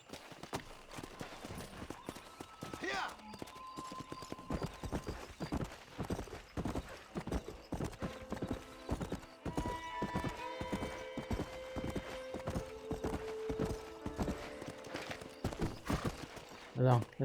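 Horse hooves clip-clopping in the Red Dead Redemption video game on PS5: steady rhythmic hoof beats throughout, with a whinny and snorts, under game dialogue and background music.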